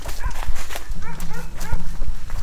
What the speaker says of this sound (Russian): Блин, собаки, они нас сейчас съедят.